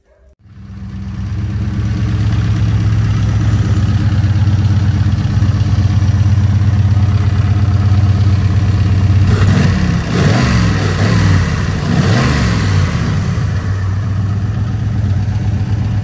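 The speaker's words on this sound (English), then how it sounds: "There's not a vibration on this motor it is running smooth" A motor starts and then settles into a smooth, steady idle, running loud and close with an even low rumble and a brief rougher patch partway through.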